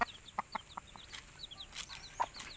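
A brooding hen sitting on her eggs gives soft, scattered clucks, quiet and close, with short chirpy bursts spread irregularly across the moment.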